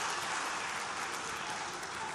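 Crowd applause for a club president at a Young Africans club meeting, a steady dense wash of clapping filling the whole moment at moderate distance with no talk over it.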